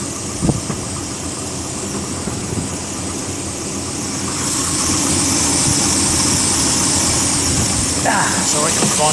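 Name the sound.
1991 Volvo 240GL engine idling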